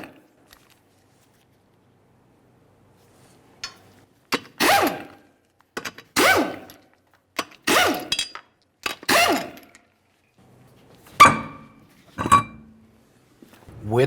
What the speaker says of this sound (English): we'll continue on with our 5 21mm lug nuts and then remove the wheel from the vehicle